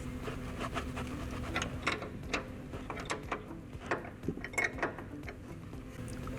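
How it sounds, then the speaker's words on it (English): A wrench loosening the top strut nuts while installing a truck leveling kit, making a steady series of close ratcheting clicks and mechanical clatter with a low background hum. "The first step in installing the leveling kit would be to loosen the top strut bolts, top strut nuts rather, and take some of the pressure off"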